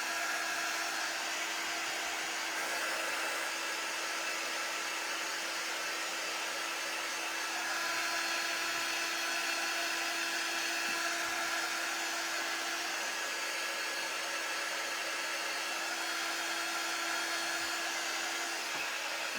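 A hair dryer blows steadily on a decorated egg, a loud continuous whirring hiss with a constant motor hum, running alone without a break.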